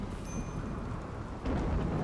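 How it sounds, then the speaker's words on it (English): Rain and thunder from a thunderstorm in RimWorld, heard as a steady, dense rain hiss with a low rumble that swells louder near the end. The storm carries on alone with no voices over it. "We do have a thunderstorm going on, but it's a rainy thunderstorm"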